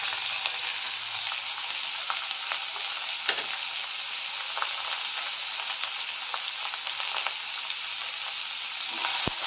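Curry leaves, green chillies, onion, carrot, capsicum, tomato and roasted peanuts sauté in hot oil for dalia upma, a bright, even, continuous sizzle with faint stirring ticks throughout.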